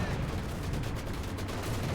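Maxim machine gun fire in the real-time strategy game Company of Heroes 2, a dense continuous rattle of automatic shots blended with distant battlefield gunfire and explosions, steady and loud throughout.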